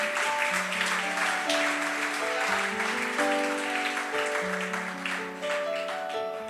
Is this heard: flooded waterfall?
no